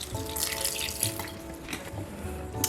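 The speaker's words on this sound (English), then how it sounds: "to give my chicken foot a good wash" Raw chicken feet rinsed under running tap water in a kitchen sink, a steady close splash and trickle with brief drips and clatter, no talking.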